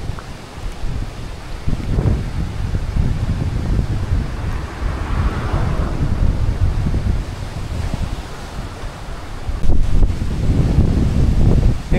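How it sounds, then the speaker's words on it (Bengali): Strong seaside wind blows at Chidiya Tapu Beach in the Andaman Islands, roaring in heavy low gusts that buffet the microphone. Surf washes in faintly underneath, and no one speaks. "সেরকমই হাওয়া।"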